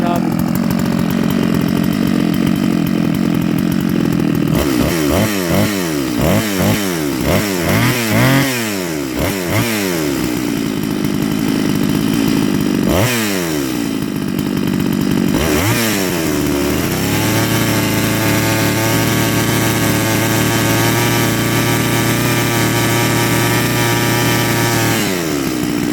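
A Farmertec G660 chainsaw, a copy of a large two-stroke saw, runs loud and close. Its engine revs up and down in repeated bursts, then settles into a steady high-pitched idle and wail. Brief talk is faintly audible.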